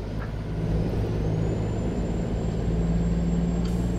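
Truck air brakes hiss in American Truck Simulator, a steady airy release over a continuous low engine drone for the whole stretch, loud and close, with no talking.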